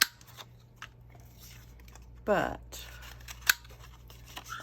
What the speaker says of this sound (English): I'm going to cut these so they have tag shapes